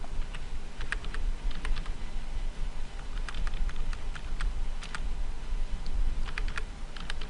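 Steady typing on a computer keyboard while entering text in a Google Form, with irregular bursts of light clicking keystrokes close by over a faint room hum, no talking.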